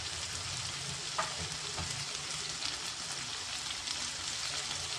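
Chopped onion, coriander leaves and slit green chillies cooking with leftover chicken in a pan, a soft steady sizzle with a couple of light stirring scrapes, close but low in level.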